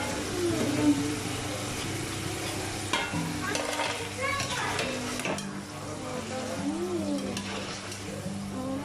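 Potato French fries deep frying in hot oil give a continuous bubbling hiss, with occasional stirring clatter under a tonal, hum-like background.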